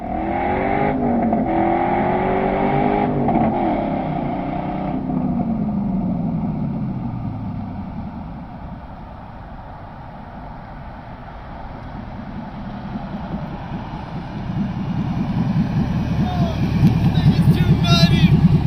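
An LS-swapped Chevrolet Blazer's V8 revs hard with rising and falling engine pulls, dips to a lower rumble, then builds into a loud, gritty roar again, with people talking and exclaiming over it.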